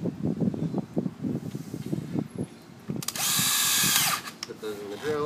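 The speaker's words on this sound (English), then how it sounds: "Put those in the drill." A power drill spins up briefly to twist three car-alarm wires together, a short loud whirring burst following rustling and handling noises with someone talking quietly beforehand.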